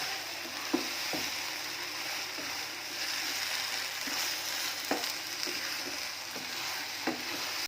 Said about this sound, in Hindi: इसको 10 मिनट और अच्छे से भूनेंगे, फिर हमारा हलवा तैयार हो जाएगा